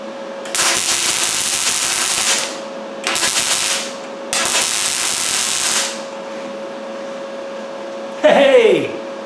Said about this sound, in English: I'm going to see if I can put a couple of spot welds in through this stainless.